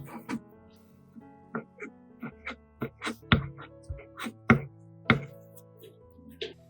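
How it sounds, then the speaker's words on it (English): Spring onions are chopped finely with a knife on a board in a home kitchen, sharp irregular chops landing one after another, close and clear with quiet gaps between. "chop it finely like this to sprinkle on the dish after it's finished"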